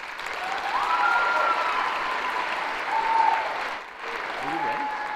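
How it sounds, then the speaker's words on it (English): A school rock show audience applauds steadily and fairly loudly for a few seconds, the clapping dipping briefly before going on, with a faint voice over it. "everybody, a big round of applause for Macy."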